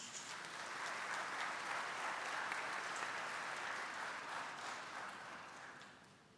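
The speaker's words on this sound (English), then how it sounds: "another round of applause for the president of Tuskegee University, Dr. Charlotte Patterson Morris." Audience applause fills a university convocation hall at Tuskegee University, a steady, dense wash of many hands clapping that holds level throughout and tapers slightly at the end, with no talking over it.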